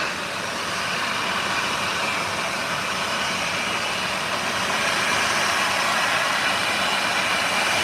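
A Southwest Airlines airliner taxiing to parking gives a steady, loud rumbling roar that holds without a break and swells slightly toward the end.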